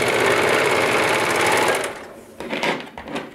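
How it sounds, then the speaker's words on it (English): A sewing machine stitches the sleeve seam of a t-shirt, a loud steady mechanical whir running alone for nearly two seconds before stopping, followed by a few softer bursts of handling noise. "I'm going to sew it on"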